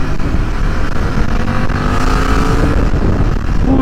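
BMW F900R motorcycle on a test ride, its engine droning loud and steady from the rider's position with wind rush, the pitch slowly rising as it accelerates.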